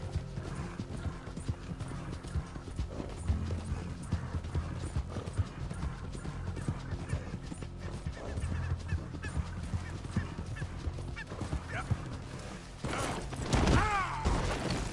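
Horse hooves clip-clop steadily and close at a walking pace in Red Dead Redemption 2, over a low ambient game bed with faint bird and goose-like calls and a brief louder burst near the end.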